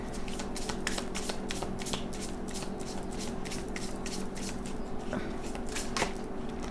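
Tarot cards are shuffled slowly and continuously, a close, soft run of repeated riffling flutters and card flicks at a quiet level.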